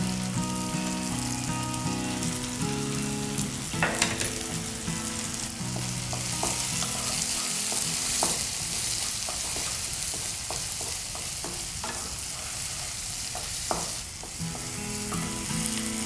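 Crushed garlic cloves and curry leaves fry steadily in a pan, a continuous close sizzle with occasional sharper crackles and stirring clicks throughout, no voices.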